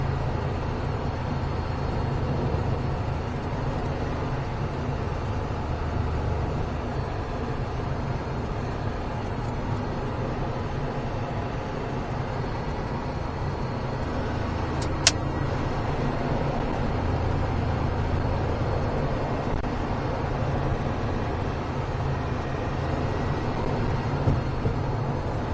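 A 1993 Porsche 911 America Roadster cruises at 60 mph and 3,000 RPM in fourth gear, a low, steady engine drone mixed with road and wind rumble throughout, with one brief sharp click midway.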